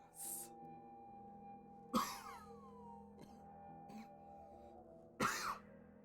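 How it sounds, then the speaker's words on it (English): A few separate coughs and throat clearings, near and fairly sharp, spaced several seconds apart over a quiet steady background hum, with no talking. "Don't mind me coughing."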